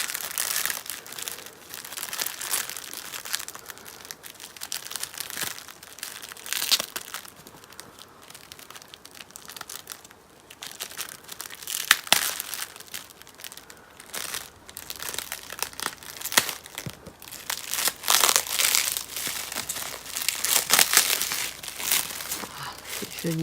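Doll packaging from an anime figure is unwrapped, with plastic crinkling and crackling in irregular bursts throughout, loudest toward the end, while a person speaks quietly at times.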